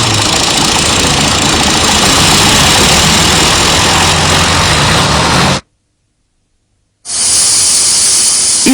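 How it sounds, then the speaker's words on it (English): A diesel engine runs loudly and steadily nearby with a dense, rough knocking roar, cuts out into about a second and a half of silence, then starts again at full volume. "Without electrics, the diesel engine is very reliable."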